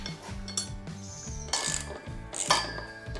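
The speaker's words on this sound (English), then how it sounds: "we are going to insert three screws here." Screws go in to fix the pillar of a Scheppach drill press: close metallic clinks, knocks and brief scraping of metal parts and tools, in irregular bursts with no talk.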